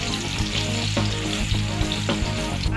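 Ash gourd slices coated in mustard paste frying in a pan, a loud, close, continuous sizzle with periodic soft knocks and scrapes as the pieces are turned.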